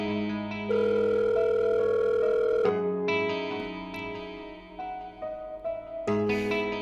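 A steady electronic telephone tone sounds after a call is hung up in a Persian drama scene, holding loud and even before shifting pitch, with other tonal sounds and music-like notes following.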